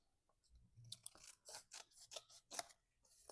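Scissors trimming paper for an art journal, a run of close, crisp snipping cuts in quick irregular bursts with soft handling noise between them, no talking.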